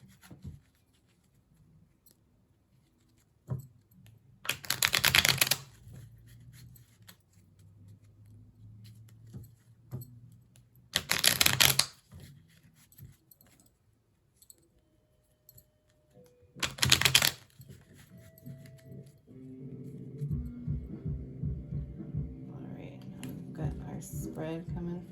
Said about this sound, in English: listen to that awesome sound of the shuffling of cards